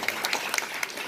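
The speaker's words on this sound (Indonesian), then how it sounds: "Tepuk tangan lagi kali ya." Brief, close applause from a barbershop seminar audience, a short burst of separate claps with a few sharp individual hits.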